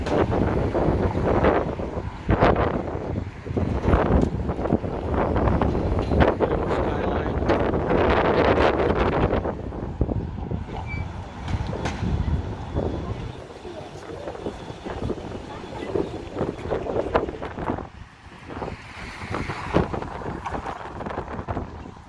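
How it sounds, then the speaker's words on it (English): Strong wind buffets a microphone on a downtown Chicago street, roaring in heavy gusts for the first half and then easing to a lower rumble with passing city noise. "I'm sure you can hear the wind in the video."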